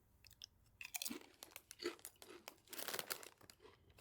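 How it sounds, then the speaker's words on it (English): Doritos Late Night Jalapeno Popper tortilla chips crunched up close, with several loud, crisp bites and chewing bursts over a few seconds, faint bag crinkling and no talking. "let's try some of these chips first. Doritos, late night, jalapeno popper"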